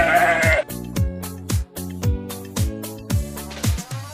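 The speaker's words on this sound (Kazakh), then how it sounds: "Қой." A sheep gives a single short, quavering bleat at the very start. A repeating thumping music beat then carries on alone.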